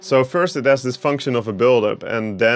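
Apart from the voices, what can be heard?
None of the usual background noises is heard.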